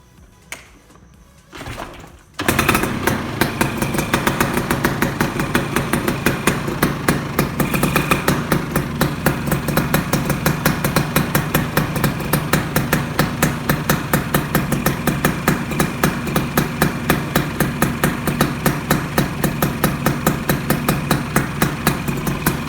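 A Yamaha Sigma motorcycle fitted with an F1Z R engine starts after a few brief rustles, then idles loud and close in a steady, rapid two-stroke putter that holds an even rhythm to the end.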